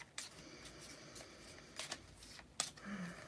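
Playing cards shuffled by hand during a live card reading, a few quick riffling bursts with soft handling sounds in between, close and fairly quiet.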